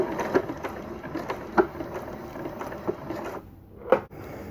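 A computerised sewing machine stitching a button on, a quick run of rhythmic mechanical ticks with a few louder knocks, then a short pause and one final clunk, no talking.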